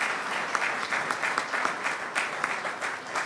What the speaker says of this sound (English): How about one more round of applause for all the great remarks from our members.